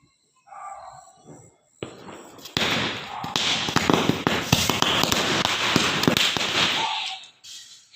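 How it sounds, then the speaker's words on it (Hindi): Firecrackers for the Igas Bagwal festival pop and crackle in a dense, rapid burst of sharp bangs, loud and close, with a few scattered pops before the main barrage. "हाँ, पटाखा सारे जला दो।"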